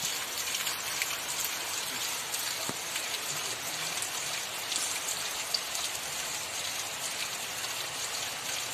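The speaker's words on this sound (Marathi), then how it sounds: "बघा कसा आवाज येतोय पावसाचा" Heavy monsoon rain pours down steadily over farm fields, a dense even hiss of drops striking surfaces, loud and continuous with no voices.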